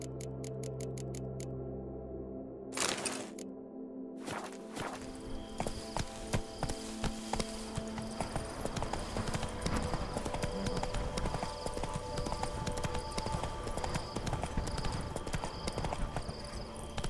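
The horse Roach in The Witcher 3 walks with steady, rhythmic hoof clip-clops over faint game ambience, following a short burst of other game sounds at the start.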